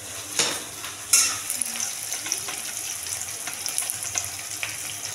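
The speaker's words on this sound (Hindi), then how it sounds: "ये टमाटर डालने के बाद में 1 मिनट के लिए पकाएंगे" Chopped tomato frying in a pan for a Rajasthani aloe vera curry, a steady close sizzle with a few sharp stirring clanks and scrapes, and no talking.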